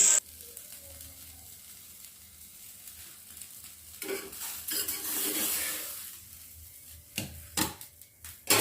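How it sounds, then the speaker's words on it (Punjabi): Potato-stuffed parathas cook on a griddle with a soft sizzle, broken by clattering utensil scrapes and knocks in short bursts toward the middle and end. "ਹੁਣ ਲਾ ਲਈਏ ਪਰੌਂਠੇ ਆਪਾਂ ਇੱਕ ਇੱਕ ਆਲੂ ਵਾਲੇ"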